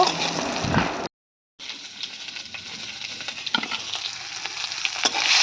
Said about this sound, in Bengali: আর তারপরে আমি দিয়ে দিলাম করলাগুলো একটু ভাজতে, আর করলাগুলো ভেজে তুলে নেব।